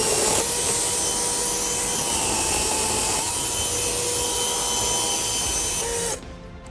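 A chainsaw cuts through wood, a loud, steady, high engine whine holding close for about six seconds before cutting off abruptly.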